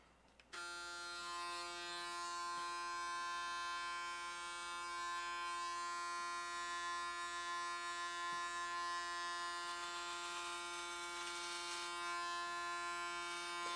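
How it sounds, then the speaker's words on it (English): An electric shaver buzzes steadily as it shaves a head during a charity livestream, a thin, even whine that runs for the whole stretch at a fairly quiet level, with no talking. "This shaver's actually a lot better than the other one. Like whatever I shave is coming off perfectly."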